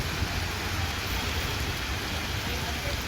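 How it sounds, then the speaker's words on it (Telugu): Heavy rain falling on Hyderabad, a steady dense hiss with a low rumble underneath, continuous and even throughout with no pauses. "మళ్లీ భారీ వర్షం హైదరాబాద్ ను ముంచెత్తుతున్నటువంటి పరిస్థితి కనిపిస్తోంది"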